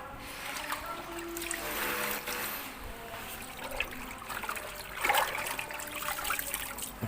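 Water trickles and drains steadily from soaked ketapang leaves resting in a basket, a continuous close dribbling wash with a slightly stronger gush near the end, no voices.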